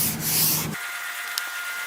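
Sanding timber by hand with 120 grit sandpaper before staining: a brisk, close rubbing scrape for under a second, then it stops and leaves a quiet room hiss with a faint tick.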